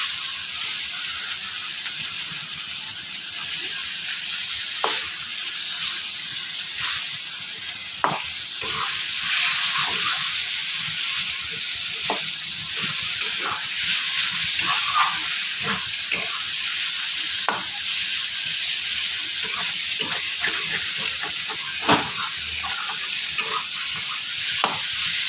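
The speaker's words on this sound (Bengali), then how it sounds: "চানাটা কষানো হয়ে গেছে, মশলাটা।" Chickpeas, boiled potato and masala frying in a pan under constant stirring, a steady close sizzle with repeated spoon scrapes and taps throughout, no talking.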